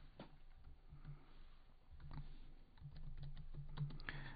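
Fast typing on a computer keyboard during a Kotlin programming lesson, a steady patter of soft key clicks with brief pauses and a faint low hum underneath, close and moderately quiet.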